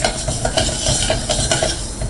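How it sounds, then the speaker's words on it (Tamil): Sugar syrup with cardamom powder boils in a pan for sweet boondi, giving a dense, steady bubbling hiss with small repeated pops and ticks throughout. "நல்லா கொதிச்சிட்டு இருக்கு."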